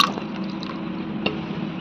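Water poured into finely ground, mashed dal makes a short, soft liquid pour with squishy drips and one small splash near the end, close by and with no talk.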